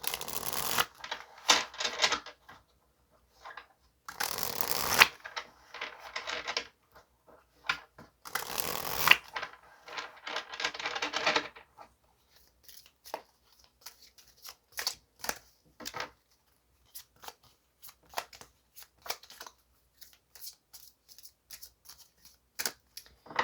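Tarot cards being shuffled and drawn, with dense bursts of riffling and flicking in the first half that give way to sparse, light card taps and slides. No one speaks.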